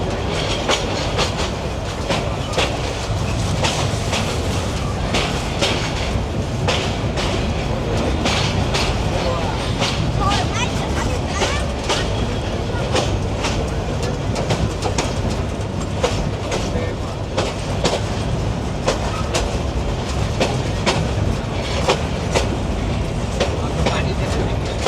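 A passenger train on the Dhaka to Kishoreganj line rolls on near Sararchar with a continuous loud rumble and a regular clickety-clack of wheels over rail joints, with some talk mixed in.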